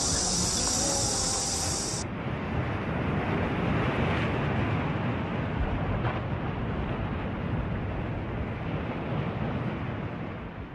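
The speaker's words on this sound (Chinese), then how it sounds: "在冲浪板上迎接海浪的冲击" Simulated ocean waves churn in a surfing wave pool, a broad continuous rushing wash that stays loud and steady throughout, with a brief high hiss at the very start.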